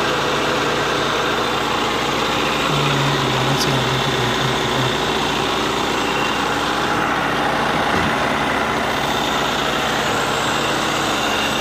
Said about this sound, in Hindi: देख लें जी, इसका ओरिजिनल पेट्रोल इंजन।